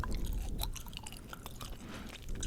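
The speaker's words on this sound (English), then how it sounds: "Gum chewing right in the ear." Close-up gum chewing right at the microphone, a steady run of soft wet smacks and small crunchy clicks that continues alone, with no talking, for a few seconds.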